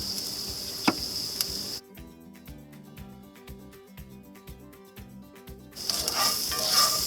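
Onions fry in a pan over a camp stove in a van, a bright steady sizzle that drops back briefly while low clinks and rattles of cookware come through, then surges again.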